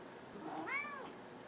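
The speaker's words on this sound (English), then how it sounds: "That was my cat." A pet cat gives a single short, faint meow indoors. It rises and falls in pitch over under a second against quiet room tone.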